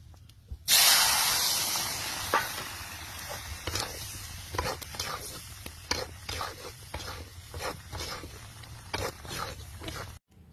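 Bitter gourd frying in oil in a wok, a loud sizzling hiss that bursts in, then settles into a steady sputter broken by irregular scraping and stirring clicks, with no talk.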